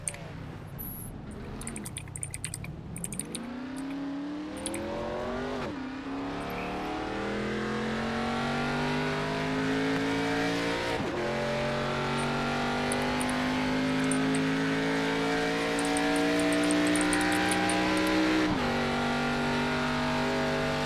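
Race cars in an iRacing NASCAR ARCA Series race at Kentucky Speedway hold a sustained engine drone that rises steadily in pitch, with brief dips at gear changes and a constant, fairly quiet roar throughout.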